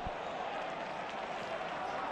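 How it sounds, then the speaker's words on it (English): A large football stadium crowd at a Getafe versus Barcelona match sends up a faint, distant wash of applause and murmur, steady throughout. "A pretty big crowd there."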